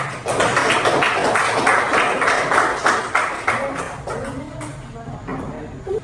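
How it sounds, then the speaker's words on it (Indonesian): An audience claps after a classroom group presentation, a lively burst of applause with dense, uneven hand claps that gradually thin out and fade, alongside some voices. "Tepuk tangan sekali lagi."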